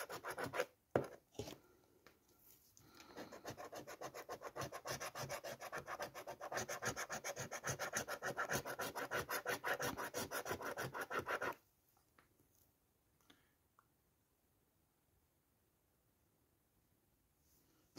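A 40X Money Multiplier lottery scratch card being scratched quickly: rapid, close rubbing and scraping strokes in a steady rhythm for several seconds, then stopping abruptly into near silence.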